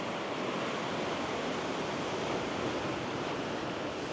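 Sea swell breaks on the Northumberland shore as a steady, broad rush of surf, continuous and moderately loud with no distinct gaps, and no voices.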